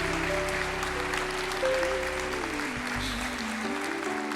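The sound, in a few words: church congregation applauding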